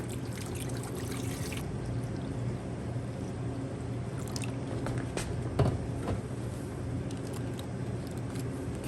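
Water pours and trickles into a pan set up as a water bath for a peanut butter Twix cheesecake, a continuous splashing flow with a few small squishy bumps, close and fairly quiet.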